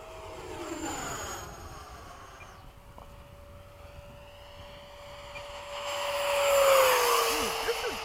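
An F-15 jet passes low after sunset at an airfield, starting as a faint distant whine and swelling into a louder, rising roar near the end.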